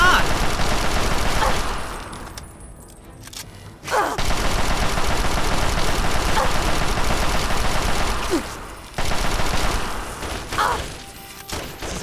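Gunfire in Fallout 3, loud bursts and rapid shots with heavy thuds and crashes filling the scene, briefly dropping away twice before resuming, up close and dense.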